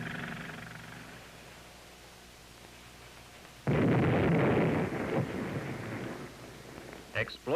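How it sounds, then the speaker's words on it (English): Dynamite blasts rip a steep hillside during dam construction, a heavy rumbling roar that bursts in suddenly after a quiet stretch and rolls on, followed by a few sharp pops near the end. "Explosions ripped the hillside."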